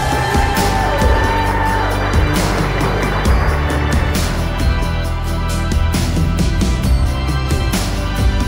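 Wedding guests at Albert River Wines applaud and cheer the newly married couple, a loud, continuous mass of clapping and whoops with rhythmic music running beneath it throughout.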